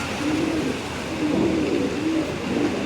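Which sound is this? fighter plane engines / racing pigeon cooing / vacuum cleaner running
racing pigeon cooing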